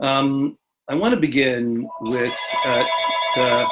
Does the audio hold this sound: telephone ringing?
yes